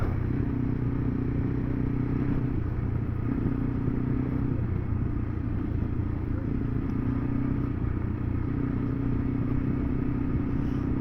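A KTM 390 Adventure motorcycle is ridden off-road, its engine droning steadily and loudly with a constant low rumble and rough clatter, uninterrupted for the whole stretch.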